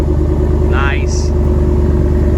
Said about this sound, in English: Rumbles. That is a Hemi now.